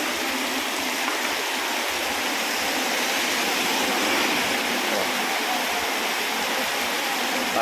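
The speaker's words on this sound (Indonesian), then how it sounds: "ini lagi hujan deras Kang Bro" Heavy rain pours down as a dense, constant hiss, close and unbroken throughout.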